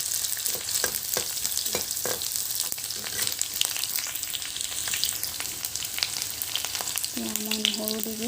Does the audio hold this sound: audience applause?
no